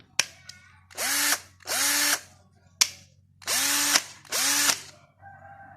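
A Makita DF330D cordless drill, a drill-only model with two speed settings, spins up in four loud bursts of about half a second each with pauses between, each rising in pitch as it starts and cutting off cleanly.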